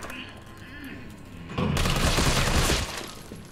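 A heavy burst of gunfire in Resident Evil 3 Remake, a loud dense blast lasting about a second over low ambient game noise.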